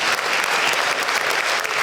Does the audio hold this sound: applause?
yes